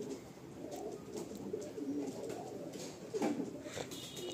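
Madrasi pigeons in a loft coo softly, with a few low, rolling calls over quiet background hiss.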